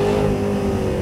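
A 2023 Cadillac Escalade V with a quad-tip exhaust rumbles loud and close in a steady, sustained rev, with no voices over it.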